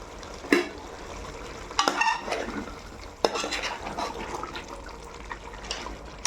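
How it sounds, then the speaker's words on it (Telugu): A ladle stirring masala in a pot for mutton biryani, with sharp metallic scrapes and clinks at irregular intervals over a soft background sizzle, close by. "మధ్య మధ్యలో మసాలా అడుగంటకుండా ఇలా కలుపుకుంటున్నా"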